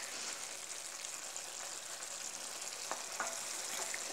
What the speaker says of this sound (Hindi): अब हमें भूनना है सिर्फ इसको इस तरह से।